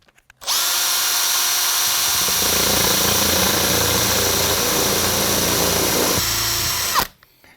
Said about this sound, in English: it'll start to drill into that